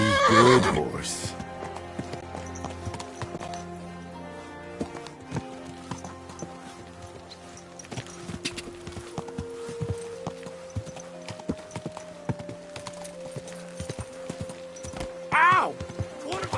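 A horse whinnies loudly up close at the start, then hooves clip-clop steadily through the scene under a sustained musical score and shouted voices, with another whinny near the end.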